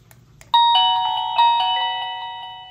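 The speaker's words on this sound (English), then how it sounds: "So, no setup is necessary in order to make the doorbell unit ring the chime." Reolink PoE doorbell chime rings out clearly with two bright bell tones, each struck sharply and then left to ring and slowly decay, after a few faint clicks.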